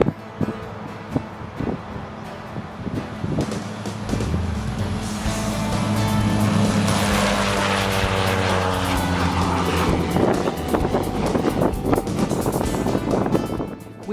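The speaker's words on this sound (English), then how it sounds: "Time to board the Cessna 208 Caravan, where Keith Sisson" A Cessna 208 Caravan single-engine turboprop runs up nearby, its loud droning engine rising and holding with a tonal whine and heavy wind buffeting the microphone.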